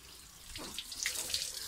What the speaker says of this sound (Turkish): Video çekeyim derken su kaçtı arkadaşlar.